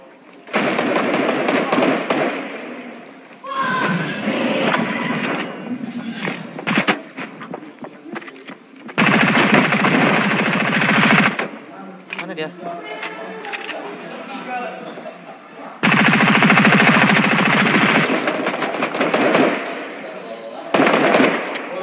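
Sharp, clattering bursts of gunfire in the video game Fortnite come in several loud volleys separated by quieter gaps, with a voice talking in between.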